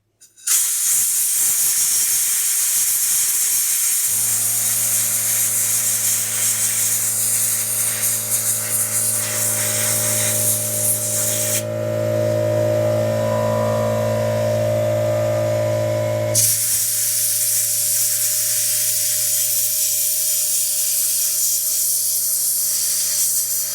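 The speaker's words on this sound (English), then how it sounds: "Let's blow that area really heavy with some air." Compressed air blasts onto the radiator of a John Deere 2520 tractor in a loud, continuous hiss with a droning tonal whine underneath that drops out partway through while the rush of air carries on, close and without talking.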